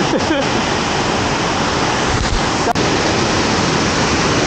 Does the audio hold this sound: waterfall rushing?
yes